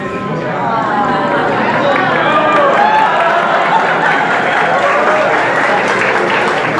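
A comedy show audience breaks into sustained applause and loud crowd noise, steady and dense throughout with a few voices mixed in.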